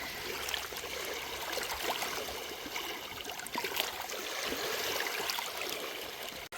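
Waves from Lake Erie washing onto an Ohio shoreline, a continuous close rush and trickle of water with gentle surges, no talking.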